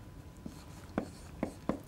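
Marker or chalk strokes on a board in a quiet lecture room, a few short scratchy taps spaced irregularly, faint and close.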